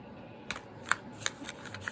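Quick, crisp snapping clicks arrive in a short irregular run as stiff tarot cards are shuffled close by.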